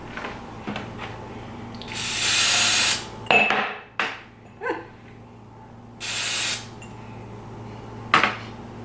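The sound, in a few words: spraying small jars with Pam cooking spray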